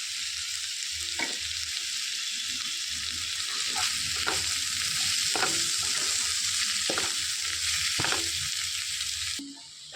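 Sliced bitter gourd fries in hot oil with a steady, close sizzle and occasional scrapes and clinks of stirring throughout.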